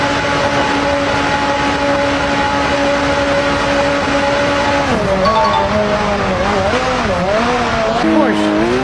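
A McLaren race car roars past at speed, its steady engine drone sliding down in pitch and then warbling up and down as it jumps, loud and continuous throughout with no talk.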